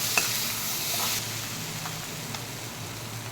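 Ground red chilli, cumin and coriander powders being stirred in a hot pan for tadka, a steady close sizzle with a few spoon scrapes and light clinks, no voices.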